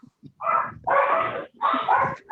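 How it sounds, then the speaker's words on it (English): A dog barks three times in quick succession, loud and close, the barks coming as long, rough bursts with brief gaps between them. "having a hard time translating the dog barking"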